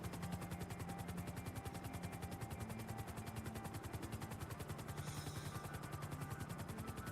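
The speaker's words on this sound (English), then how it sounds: "Love the sound of the helicopter." Helicopter in GTA Online, a steady rapid rotor chop with a continuous engine drone, even and unbroken throughout at a moderate, close level.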